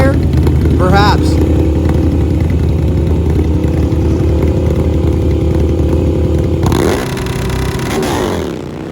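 V-twin eliminator-class drag racing motorcycles roar loudly off the line at a drag strip, a sustained harsh engine drone with rising revs before the pitch shifts and fades near the end.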